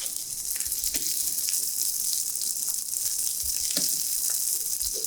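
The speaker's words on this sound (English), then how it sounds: "Now we add the garlic butter." Garlic butter sizzles loudly in a hot pan with steak, a steady close crackling hiss with a few small pops, and no voices.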